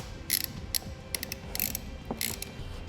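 A 10mm socket wrench snugs down a nut on the terminal of a Superwinch LT3000 winch on a 2006 Yamaha Kodiak ATV, giving short bursts of faint ratcheting clicks at close range, with no talking.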